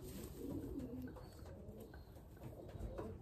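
A breeder pigeon coos softly in low, rolling phrases, repeated a few times against a faint background hum, quiet and close with no talking.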